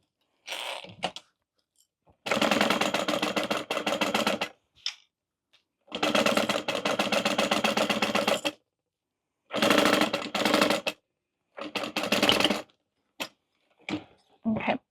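A sewing machine stitches fabric together with basting seams in repeated loud bursts of rapid needle chatter, each a few seconds long, separated by quiet pauses.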